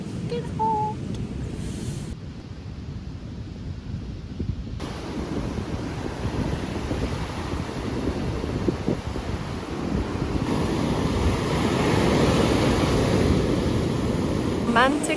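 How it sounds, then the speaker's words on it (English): Ocean waves crashing on Playa Brava beach in Tayrona National Park, a continuous loud surf roar mixed with wind buffeting the microphone, swelling toward the end, with a voice at times. "while the waves are like crashing like crazy"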